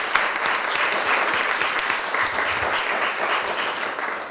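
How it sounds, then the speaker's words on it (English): A symposium audience gives the presenters a round of applause: sustained, full-room clapping, loud and even from start to finish with no speech over it. "Can we give all of our presenters a round of applause?"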